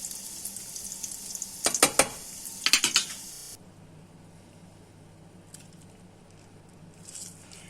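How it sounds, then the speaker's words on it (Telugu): Falafel balls deep-frying in hot oil give a soft, steady bubbling patter, with a couple of louder sputtering bursts early on before settling to a quieter fizz. "ఇది బాగా ఫ్రై అవ్వాలండి ఇవి ఆయిల్లో"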